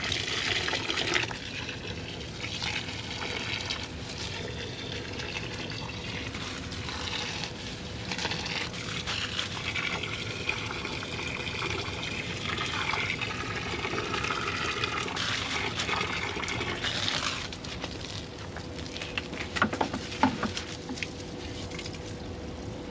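Water pours steadily onto a pepper plant outdoors in summer, a continuous soft splashing and trickling gush that runs unbroken for the whole stretch with small bursts near the end, with no talk over it.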